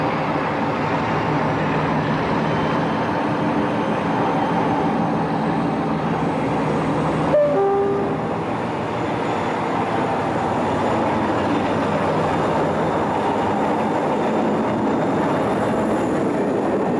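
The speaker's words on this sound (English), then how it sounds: "This is an Intercity Class 47, heading the daily 1544 Plymouth to Derby, leaving St David's at 1646." An Intercity Class 47 diesel locomotive hauls the Plymouth to Derby train out of Exeter St David's station, giving a steady, heavy engine rumble with rolling wheel noise and a brief faint squeal partway through.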